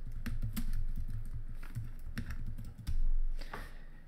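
Quick, light keystrokes patter on a computer keyboard as a search term is typed in. The irregular clicks are close and fairly quiet over a soft room hum.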